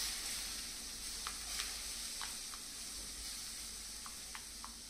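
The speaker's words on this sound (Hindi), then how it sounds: "अब हम इसमें डालेंगे ये 1 कप दूध, जिसको लगातार चलाएंगे ऐसे ताकि ये जो गांठे हैं ना ये ना पड़े।" Milk stirred continuously into a roasted mixture in a pan gives a faint, steady hiss. Occasional light scrapes of the spoon sound quietly against the pan.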